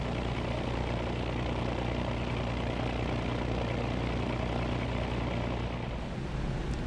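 Hawker Tempest Mk.V piston propeller engine at full power during takeoff in a flight simulator, a loud steady roaring drone with a dense rumbling low end, continuous throughout.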